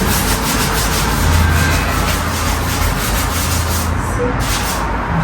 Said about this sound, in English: I've tried scrubbing, it's not doing anything.